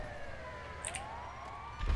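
Ambulance siren in a sumo-style ambulance battle video game, a steady wailing tone with rising and falling pitch running through the whole stretch, fairly faint under game noise, with a low thump at the end.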